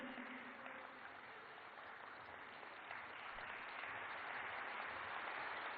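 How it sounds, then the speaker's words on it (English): At the BioAsia 2020 convention in a large hall, an audience applauds an award recipient, a dense, even roar of clapping that builds slightly toward the end, with no talk. "a huge round of applause for Dr. Carl June, the recipient of the Genome Valley Excellence Award"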